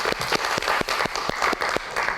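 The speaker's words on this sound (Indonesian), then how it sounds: "Kita berikan tepuk tangan untuk Sabago." Steady, rhythmic clapping in a television news studio, roughly four claps per second at moderate loudness over a faint background hum.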